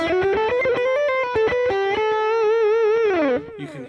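A distorted electric guitar picked slowly: a sustained run of single notes, each attack clear and aggressive, played alone and close before ringing off at the end.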